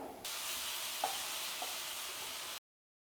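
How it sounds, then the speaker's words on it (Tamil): Onions and tomatoes cook in a covered pan over a medium flame, giving a steady soft sizzle and hiss with a couple of faint clinks before cutting off abruptly. "இப்போது மூடி போட்டு இந்த வெங்காய தக்காளி எல்லாம் நல்லா குக் ஆகிற வரைக்கும் ஒரு 2 மினிட்ஸ்க்கு குக் பண்ணி எடுத்துக்கோங்க"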